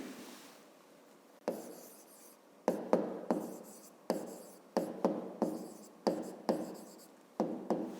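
Pen strokes on paper during a fifth-grade maths exercise, written out close and quiet: brisk scratching bursts in short groups with small pauses between them, and no talking.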